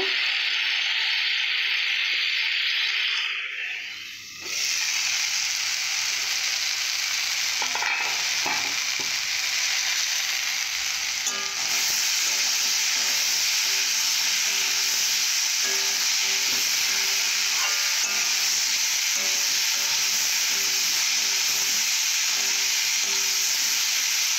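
Malabar spinach (pui shak) stirred and sautéing in a hot pan, with a steady, close frying sizzle and hiss that carries on throughout, broken by an occasional scrape of the spoon.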